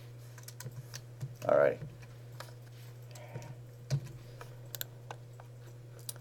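Typing on a computer keyboard, a scattering of soft, uneven key clicks over a low steady electrical hum, with a voice speaking briefly.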